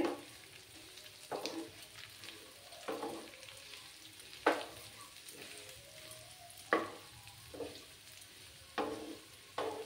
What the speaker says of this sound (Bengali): তারপরে 2টো পেঁয়াজ দিয়ে দিচ্ছি। দিয়ে ভালো করে ফ্রাই করে নিতে হবে।